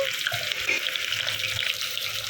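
Chopped onions fry in hot oil in a pressure cooker for mutton curry, giving a steady, dense, close sizzle with small crackles throughout.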